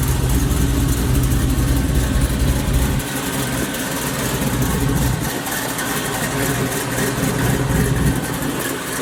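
A supercharged Cutlass engine idles loud and close with a rough, dense rumble, the low end dropping a notch partway through before settling into a steady idle.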